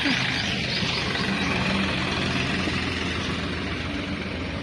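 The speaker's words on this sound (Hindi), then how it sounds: "ट्रैक्टर की आवाज आया।" A tractor engine idles nearby with a steady low chugging rumble, constant throughout, with faint bird chirps in the background.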